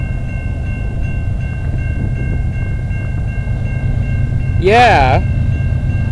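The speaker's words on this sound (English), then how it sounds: "we got CN M396 coming down the line" CN freight train M396 rolling past on the Dundas Subdivision in London, Ontario, led by a Canadian Pacific locomotive, with a loud continuous rumble, a sustained ringing tone and a brief warbling horn blast near the end as a voice cheers.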